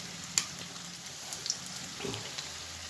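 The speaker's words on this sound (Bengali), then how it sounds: "এগুলো ভাজা হচ্ছে।" Pumpkin pieces fry in a pan with a faint, steady crackling sizzle heard close up, dotted with a few soft pops and light ticks.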